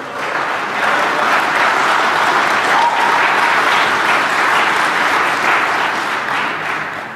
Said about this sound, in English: It's the only thing that got an applause so far.